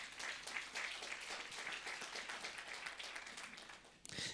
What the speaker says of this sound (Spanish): Nuevamente démosles un fuerte aplauso al coro Alegría.